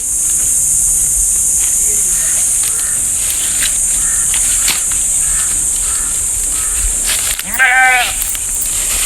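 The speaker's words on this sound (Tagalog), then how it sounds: "ibang boses mo kambing" A single goat bleat, wavering and fairly close, rises near the end over a steady, loud drone of buzzing insects.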